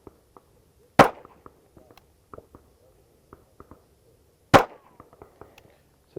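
A handgun fires during a trigger-press exercise: two sharp, loud shots several seconds apart. Faint clicks and small handling noises fill the quiet between them.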